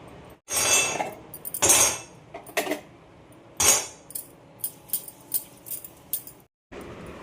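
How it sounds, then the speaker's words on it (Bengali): Cleaning a gas stove in a home kitchen: irregular metallic clinks and scrapes of burner parts and utensils, a few louder clattering bursts followed by lighter taps, close and without talk. "এবার এই গ্যাসটা পরিষ্কার করবো"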